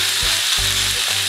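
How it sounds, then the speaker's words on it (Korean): Tofu stir-frying in a hot pan with onion and minced garlic gives a loud, dense sizzle, with three quick scraping stir strokes heard up close and no voices. "여기 좀 넣어서 두부의 간이 되게 살짝 볶아주세요"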